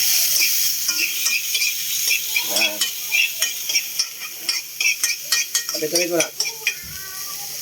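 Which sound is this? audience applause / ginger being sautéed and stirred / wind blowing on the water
ginger being sautéed and stirred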